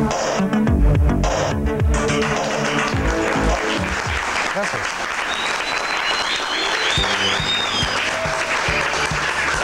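A television studio audience applauds a band, loud sustained clapping filling the whole stretch with a few brief shouts and a little talk faintly mixed in.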